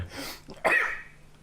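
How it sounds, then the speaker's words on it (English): A single sharp cough bursts out near the mic, loud and brief, followed by a fading breathy tail in a quiet room. "Can't make me laugh. I'm gonna cough."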